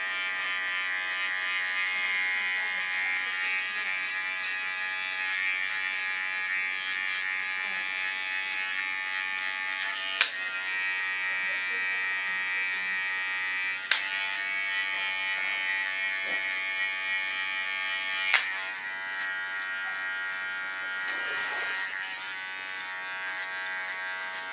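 Electric hair clippers hum continuously while cutting short hair, a close, steady buzz with a few sharp clicks and slight shifts in pitch as the blade moves.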